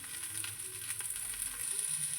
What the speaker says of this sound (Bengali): পটলটা অল্প তেলে ভাজাই ভালো